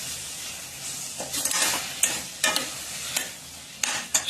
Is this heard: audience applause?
no